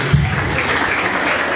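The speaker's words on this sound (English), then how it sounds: "Clap for them, clap for them." Audience at a school debate applauding, a continuous loud wash of clapping from a crowd, held at an even level for a short stretch.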